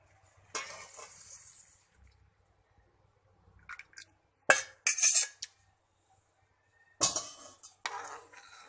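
Tamarind pulp is stirred into hot sugar syrup in a pan for sweet-and-sour imli chutney, giving a few separate bursts of spoon scraping and metal clatter with quiet pauses between them.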